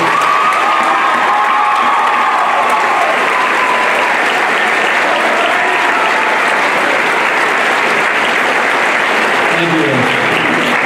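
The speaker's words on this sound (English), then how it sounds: "Ladies and gentlemen, have a fine round of applause for all of you." A graduation audience gives sustained loud applause to Northside High School teachers and employees at a 2022 ceremony, a dense wash of clapping with some cheering, filling the hall for about ten seconds and holding steady throughout.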